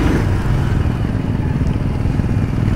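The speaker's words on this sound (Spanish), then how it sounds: "Se escucha bien distinto el motor." A Royal Enfield Scram 411 motorcycle engine runs close by with a steady, throbbing low rumble and no voices.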